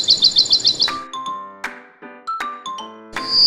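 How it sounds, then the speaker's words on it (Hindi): Cartoon birds chirping in a morning village scene, a quick run of bright tweets followed by scattered chimes and calls, close and clear with no talking. "सुबह सुबह चिड़ियां चहचहा रही थीं"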